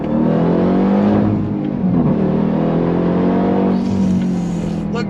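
A 2024 Dodge Durango Hellcat engine revving in manual mode, a loud, steady, deep growl that swells and holds close to the microphone with no voices over it.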